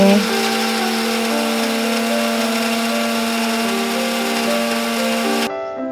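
A kitchen mixer grinder whirs steadily at high speed, blending ice apple pieces with jaggery, a loud continuous motor whine with a harmonic hum that cuts off sharply near the end, no talking.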